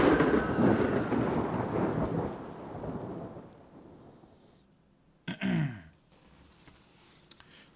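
Video game rain hisses loudly and steadily at first, then thins and fades, broken by a brief whooshing swell near the end.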